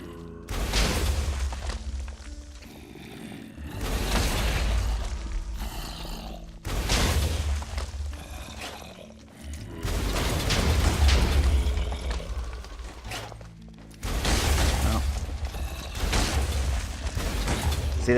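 Grim Reaper rocket launcher in a Minecraft Techguns game firing at zombies: five heavy, booming explosions spaced a few seconds apart, each a loud roaring burst that rumbles and fades before the next.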